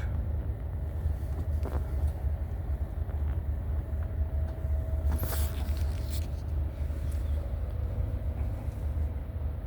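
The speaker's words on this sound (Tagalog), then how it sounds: "Traffic sa tulay ng Hamburg." Traffic crossing a bridge in Hamburg, near the harbor where container ships pass, makes a steady, continuous low rumble that stays at an even level throughout, with no voices.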